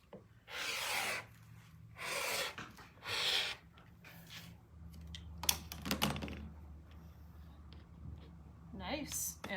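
A rotary cutter slices through fabric laid flat on a cutting mat, cut straight across the grain, giving a few short, close rasping strokes with pauses between them.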